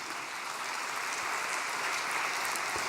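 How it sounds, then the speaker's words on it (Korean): Steady applause from a church congregation at an overnight prayer vigil, a dense wash of many hands clapping continuously for a few seconds with no talk over it. "감사의 박수 올려드립시다."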